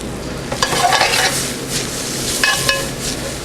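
Swiss chard leaves and stems sauté in a pan, giving a steady sizzle with intermittent scrapes and light clinks of a utensil tossing them, close and fairly loud.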